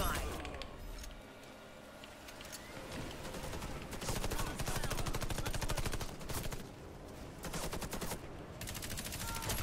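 Rapid automatic gunfire from the video game Warface, with dense sustained bursts and short pauses, loud and close throughout.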